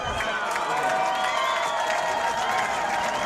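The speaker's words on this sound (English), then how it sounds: "You can hear the crowd react to it." Crowd noise from the stands at a high school varsity football game between Fenwick and Brother Rice: a steady, loud wash of murmuring and raised voices with scattered cheers, heard from a distance, with talk mixed in.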